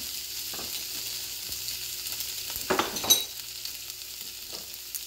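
Ginger and garlic fry in hot oil for Sri Lankan-style devilled chicken, a soft steady sizzle that swells into a louder crackling burst midway as more goes into the pan, with faint stirring.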